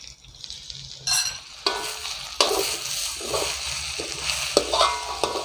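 Egg and chicken kottu roti frying in a pan while being stirred, with loud scraping strokes and sizzling bursts repeating every second or so, close up and without talk.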